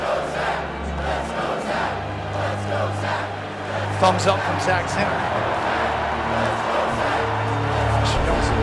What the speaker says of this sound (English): Crowd's getting into it here to support him.